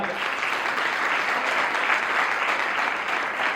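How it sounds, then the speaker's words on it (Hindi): An audience at a company event applauds those who qualified for a Goa trip, giving a dense, even, sustained round of clapping from a large crowd, heard alone without talk. "जितने लोगों ने गोवा क्वालिफाई किया उनके लिए जोरदार तालियां"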